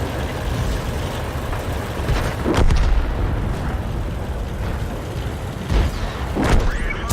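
Tank shell impacts in World of Tanks as two rounds strike a Pantera, heavy booming hits over a dense, continuous battle rumble, with a sharp impact near the middle and another near the end.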